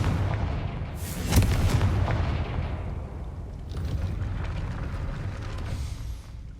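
Confringo fire spell bursting in Hogwarts Legacy, a loud explosive boom near the start followed by crackling, rumbling debris and a softer secondary burst, with no talk.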